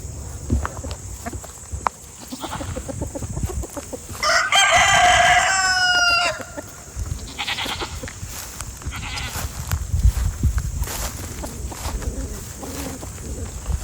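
A farm rooster crows once loudly and nearby, a long wavering call lasting about two seconds, amid background clucking, bleating goats and sheep, and rustling farmyard noise.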